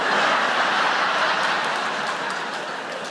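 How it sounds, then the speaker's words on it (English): Audience applause at a stand-up comedy show, a dense steady wash of clapping from a large crowd that fades slightly toward the end. "Some of you applauding that"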